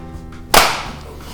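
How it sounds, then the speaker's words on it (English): One sharp hand clap rings out close and loud after a short quiet stretch, then fades quickly in a small podcast studio. "You need a clap?"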